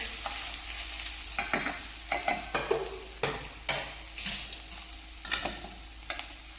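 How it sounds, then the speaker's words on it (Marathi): Spoon stirring mashed green chili and peanut thecha with garlic and salt in a pan, a steady series of scraping, clacking strokes over a faint continuous sizzle, close and fairly loud, with no talking. "आता इथे शेंगदाणे आणि मिरची व्यवस्थित मिक्स करून घ्यायची आहे"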